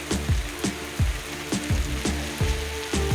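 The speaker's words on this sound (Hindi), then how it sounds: "बारिश तेज़ होने वाली है" Steady heavy rain patters on a mud house in Pakistan, with repeated heavier drips or taps landing roughly every half second over a constant wet hiss.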